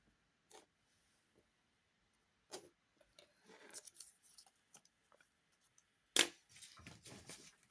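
Scissors cut out a small paper circle, with sparse snips and crisp clicks of the blades between pauses, then a sharper snap followed by a run of rustling cuts near the close.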